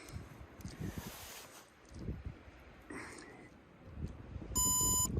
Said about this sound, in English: you'll hear a beep. And that beep is an indication of the battery level